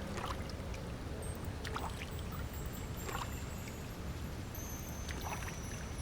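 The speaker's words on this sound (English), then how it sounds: "A bucket of water. We can actually make rings in the water." Water ripples and sloshes in a bucket in the video game Myst IV, a continuous soft wash of watery texture with scattered faint drips and plinks, steady and low in level throughout.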